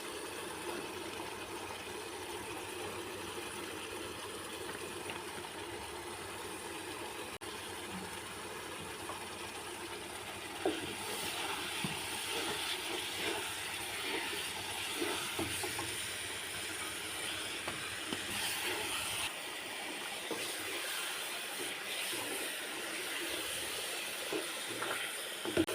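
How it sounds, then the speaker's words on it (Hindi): Moringa boils uncovered in a pot of water, making a continuous hissing, steamy bubbling that grows busier and more crackly toward the end. "इसको बगैर ढके हुए उबालना है।"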